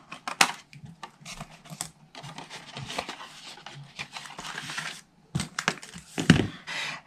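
Cardstock being cut for a Halloween gift box: a string of sharp, dry snips and crinkles close by, irregular and brief, with short quiet gaps between bursts.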